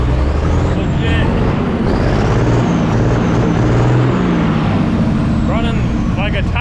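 An old truck idles steadily after being brought back to running, a low continuous rumble with brief hisses and faint squeaks over it.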